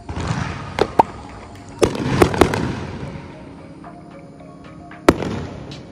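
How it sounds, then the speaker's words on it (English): Fourth of July fireworks in a residential neighborhood, a handful of sharp, crackling bangs scattered irregularly over a soft background hum, some close and loud, others fainter. "The fireworks are everywhere."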